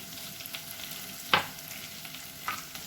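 Kanthari chicken dry fry with curry leaves and coconut oil sizzling in a pan, a soft steady frying hiss with a few sharp stirring scrapes and clinks, no voices.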